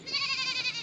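A goat doe in heat gives one sustained, wavering bleat in a farm garden corner, loud and close, lasting nearly a second with no other sound.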